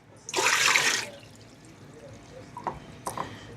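A brief splash of water being poured out of a homemade tapache ferment of pineapple scraps nearby, followed by a few faint drips and small knocks.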